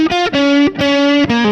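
A distorted electric guitar plays the closing phrase of the Live Wire intro solo, a few sustained, bent notes separated by brief picking breaks, loud and close with no talking.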